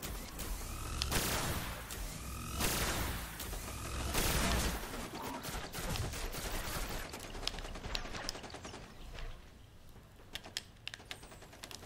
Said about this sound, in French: ça c'est un fusil à impulsion par exemple qui tire 3 rafales